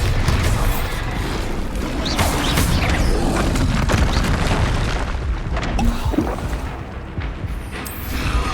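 A Bombarda spell explodes in the video game Hogwarts Legacy, filling the scene with a loud, continuous booming rumble and crashing debris noise that stays dense and heavy throughout.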